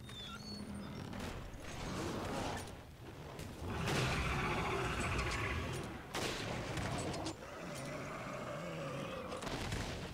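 Gunfire from the video game Resident Evil Revelations: a dense run of shots and mechanical clatter keeps going with a few short gaps under a thick, noisy game soundtrack, at moderate level with no clear talk.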